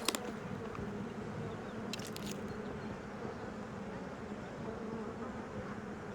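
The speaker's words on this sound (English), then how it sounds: "You hear the bees." Bees buzz in a steady, continuous drone in the Pax Dei video game, an even insect hum that carries on alone throughout with no talk over it.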